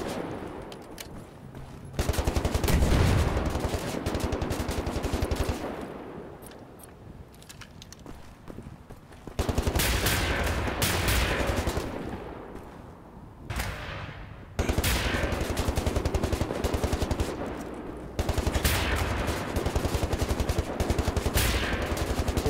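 Heavy automatic gunfire from a big gun in Wolfenstein: The New Order, loud sustained bursts broken by short pauses, with spent-shell and impact clatter between volleys.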